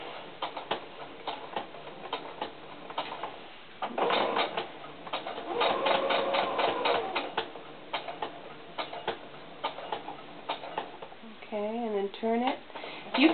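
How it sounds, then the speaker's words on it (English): A sewing machine runs in short bursts of back-stitching on fabric for a doll tennis shoe. The mechanical ticking is close and moderately loud, and the motor is heard starting and stopping. Faint speech can be heard briefly near the end. "Do a couple back stitches."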